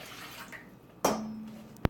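Water runs briefly into a pot on a stove, a short splashing pour followed by a ringing tone and a sharp clink of the pot.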